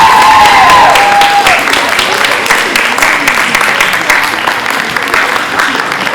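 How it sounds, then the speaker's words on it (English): A crowd at a Grade 8 graduation ceremony applauds the graduates, loud sustained clapping with some cheering and a brief whistle near the start, continuing steadily without talk. "another round of applause for the graduates"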